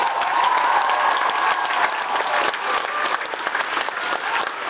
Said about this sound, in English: Huge round of applause for our very talented keyboard player